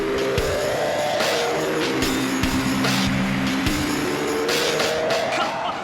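A KTM LC4 single-cylinder motorcycle roars past at speed, its engine note rising and falling as it approaches and recedes, loud and continuous with no voices.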